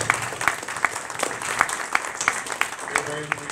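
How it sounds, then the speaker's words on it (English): An expo audience at a Game On Expo 2017 panel claps, a scattered round of applause with distinct individual claps under ongoing talk from the stage. "give them a round of applause"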